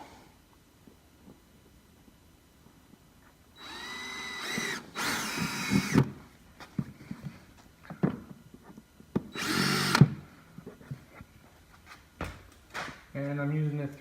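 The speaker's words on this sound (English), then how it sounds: "marked the hole where I need to drill through the belly pan" Power drill with a 3/16 bit boring a hole through the belly pan of a Ski-Doo Freeride 850 snowmobile, a few short loud whining bursts with pauses, starting after a quiet stretch.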